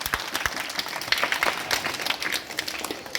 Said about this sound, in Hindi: ताली बजाइए सब लोग।